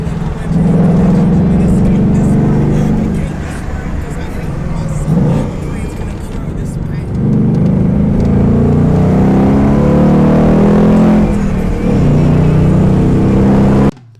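A Ford Mustang Bullitt drives up the Simplon Pass, a Swiss mountain road, with its engine holding a steady, loud drone and rising and falling slightly through revs, heard alone without talk.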